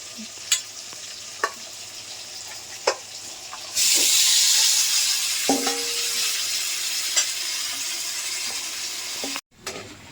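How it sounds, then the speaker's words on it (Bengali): A few stirring clanks, then spice-marinated meat drops into a hot pan and a loud, steady sizzle rushes up and continues, with occasional scrapes. "মাংসটা দিয়ে দিয়েছি, কষাচ্ছি"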